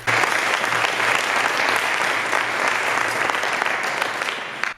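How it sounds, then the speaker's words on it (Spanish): Sustained applause from a sizable audience at a talk in Tineo, Spain, dense and steady, filling the whole stretch before tapering at the very end. "os pido un fuerte aplauso"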